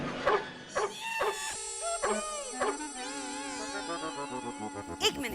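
A dog in a comedy scene lets out several short, sharp barks in quick succession near the start, with a tonal musical backdrop swelling underneath.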